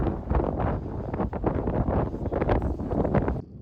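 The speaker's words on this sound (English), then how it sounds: "It's really windy up here" Strong wind tears across Isolation Peak Pass on the Colorado Continental Divide, a loud, continuous roar and rumble of gusts hitting the microphone with no pauses.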